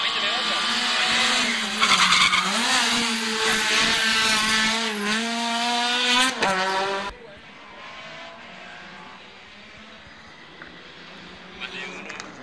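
A touring rally car on the El Bailadero stage of the 2015 Rally Isla de Tenerife gives a loud, wavering high-pitched brake squeal with skidding. The squeal drops away abruptly halfway through, leaving quieter ambience.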